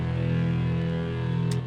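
Distorted hip-hop music sample with fuzzy, fizzy high end and heavy boosted bass, a steady dense loop playing alone, a brief bright burst near the end.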